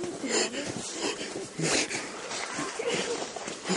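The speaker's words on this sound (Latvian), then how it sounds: "dziļāk elpo, neraust elpo" A person takes deep, strained, wheezy breaths close to the microphone during physical effort, with a steady roughness throughout and no clear talk.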